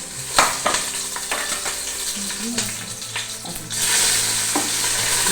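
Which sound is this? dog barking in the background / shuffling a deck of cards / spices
spices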